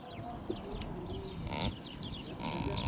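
A pregnant Maltese goat moans during labour, a low strained bleat rising out of steady farmyard background noise with a couple of brief higher calls.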